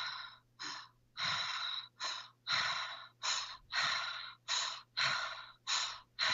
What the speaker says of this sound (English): you want to do continuous breaths, focusing on your inhale a little bit less than your exhale